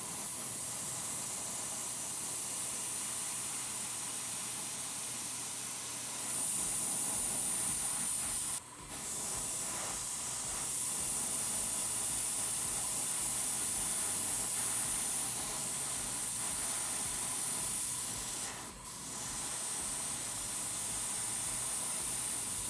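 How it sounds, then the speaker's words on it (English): An airbrush sprays XF69 primer onto plastic Gundam model parts, producing a continuous loud hiss that runs for over twenty seconds, broken only by two brief pauses, with no voices. "It's really easy to get a good result out of an airbrush"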